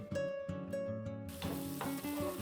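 Tomato paste goes into fried ground spices for egg pasta: a soft, even sizzle bursts in about halfway and holds to the end, faint, with steady tonal music running underneath.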